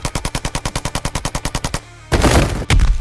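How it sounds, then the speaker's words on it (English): Rapid machine gun burst of about twenty evenly spaced, close, loud shots, then a short lull and two harsh bursts of gunfire in a motion comic scene where kids are being shot at. "Shooting at kids."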